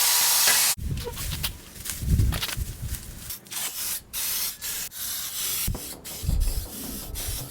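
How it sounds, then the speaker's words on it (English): A wire brush scrubbing the bare chassis of a Toyota Hilux, with a steady loud rasping hiss broken by brief pauses, close and alone with no talk. "I wire brushed the whole chassis"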